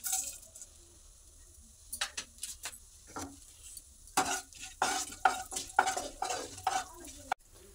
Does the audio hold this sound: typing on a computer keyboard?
no